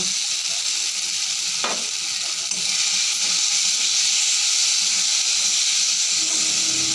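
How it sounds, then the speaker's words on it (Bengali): Chili and cumin powder sizzle loudly in hot oil in a pan while being stirred for a Bengali fish curry, a dense continuous frying hiss with occasional utensil scrapes, close and steady. "এইবারে দেব লঙ্কার গুঁড়ো, জিরের গুঁড়োটা দিয়ে দেব"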